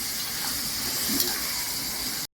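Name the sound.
chicken with ginger, garlic, turmeric sautéing in oil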